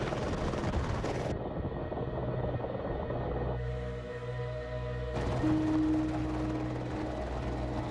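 Rescue helicopter high on Everest, its rotor and engine drone a steady low rumble that swells and holds throughout, with shifting hum and tonal whine layered over it.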